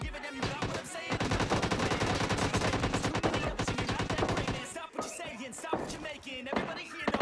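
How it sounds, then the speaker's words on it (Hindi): Gunfire from a PUBG Mobile Lite match: dense, loud rapid bursts of automatic shots fill the first five seconds, then scattered sharper reports follow amid game sounds. "कुछ बंदे फायरिंग कर रहे हैं"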